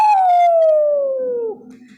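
A human voice imitates a dog baying at the moon: one long, loud howl that slides slowly downward in pitch, then breaks off into a softer, lower tail.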